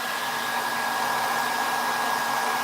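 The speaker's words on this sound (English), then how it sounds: "I have to run the hairdryer in for a minute" A hairdryer runs steadily and fairly close, drying acrylic paint on a Gripping Beast ghost king miniature, a constant broadband whoosh with a faint motor whine that stays level throughout.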